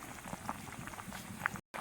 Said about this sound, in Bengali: দেখো কি সুন্দর ফুটছে